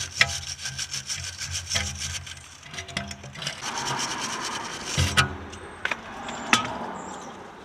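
Scrubbing and rubbing strokes, rhythmic and close, come from cleaning the rear control arm bolts of a BMW E60 5 Series with WD-40, with a few sharp clicks and taps toward the end.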